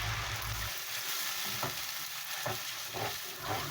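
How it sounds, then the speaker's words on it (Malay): Sliced onions and curry leaves frying in oil in a pan, a steady sizzle broken by a few stirring scrapes, close up with no talk. "Masukkan bawang hiris tu tadi, daun kari dengan 4 sekawan ya. Digoreng agak-agak layu je lah."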